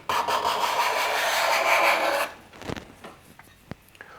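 Card scraper drawn across ash, taking whisper-thin shavings: a continuous bright rasping scrape for about two seconds, close and loud, then a few softer scrapes and taps.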